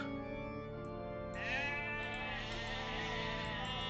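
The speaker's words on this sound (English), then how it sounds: "More sheep." Sheep bleating in the video game Age of Empires II, several drawn-out nasal bleats one after another, clear and close over a soft background hum.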